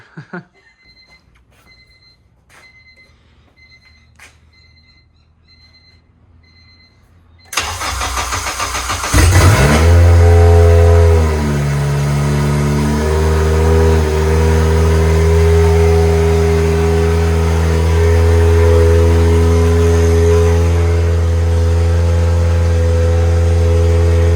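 Quiet clicks and faint tones give way to a Honda K24A engine in a Dodge cranking and firing up for the first time, then a quick rev before it settles into a loud, steady idle.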